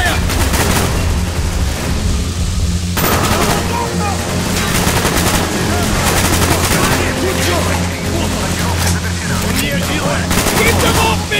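Sustained loud gunfire in the Call of Duty Black Ops game, with rapid machine-gun bursts and rattling rifle shots running continuously and nearly unbroken through the span, heavy and close, with no one talking over it.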